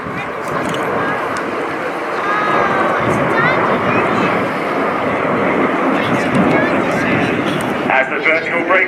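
RAF Red Arrows jets fly a vertical break manoeuvre at an air show, a loud, continuous roar of jet engines over crowd noise, with a commentator talking throughout.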